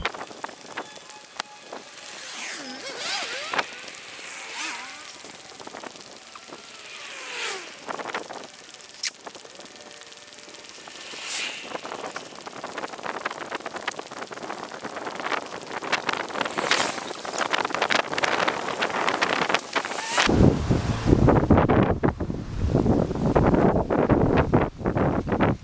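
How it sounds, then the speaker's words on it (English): Wind rumbles and buffets the microphone, growing stronger and louder toward the end, with scattered crackling noises and no speech, outdoors on foot. "Very windy also"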